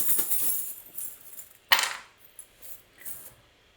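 Small divination charms dropped onto a surface, a short bright clatter and clink at first, then a few lighter scattered taps as the pieces settle, close and fairly quiet.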